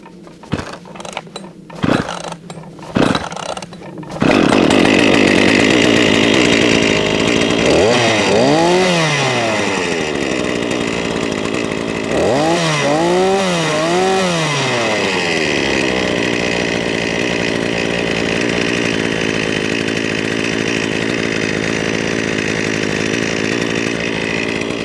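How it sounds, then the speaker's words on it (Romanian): A Ruris RM 540 chainsaw, its air filter used for about 30 cubic metres of firewood cutting, starts after a few pulls of the starter cord and then runs loud and close at a steady idle, with a couple of brief throttle revs. "O las puțin să meargă și o să vedeți cât de ușor pornește la cald drujba."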